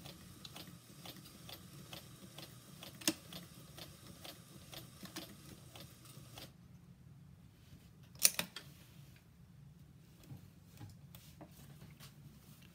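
A sewing machine stitches a dress made from a kitchen towel, giving faint, quick, regular ticking for several seconds. The ticking stops, then a single sharper click follows in a quiet room.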